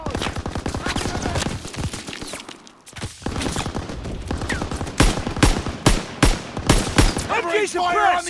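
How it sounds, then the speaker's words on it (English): Close, loud machine-gun fire rattles in rapid bursts during a Call of Duty: WWII firefight, mixed with other gunshots and shouted voices. "You gotta suppress the machine gun!"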